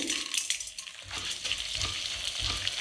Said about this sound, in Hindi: तो गोंद को हम थोड़ा थोड़ा करके फ्राई करेंगे।